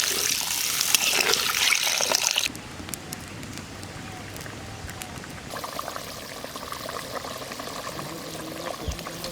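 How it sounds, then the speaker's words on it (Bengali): Water is poured from close by into a pot of sautéed potatoes for a Hilsa fish curry. A loud gushing pour lasts a couple of seconds, then settles into a quieter, steady liquid wash. "সুন্দর করে আলু কষানো হয়ে গেছে এখন জল দিয়ে দেবো"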